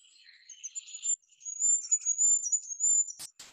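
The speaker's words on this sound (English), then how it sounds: "So that's the goldcrest, beautiful little bird." Goldcrest song recorded in the field: a thin, very high-pitched warbling trill of rapid notes, faint and close, running almost continuously and ending with a couple of soft thumps at the close.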